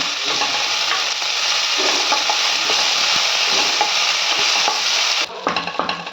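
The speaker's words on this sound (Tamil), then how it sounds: "இஞ்சி பூண்டு போட்டுக்கோங்க பேஸ்ட்டு இப்படியே கொஞ்சம் வதக்கிக்கோங்க" Onions sautéing with ginger-garlic paste for mutton kola urundai kuzhambu, a loud, dense sizzle that runs steadily under occasional stirring scrapes before it drops away abruptly near the end. Close up, with no speech.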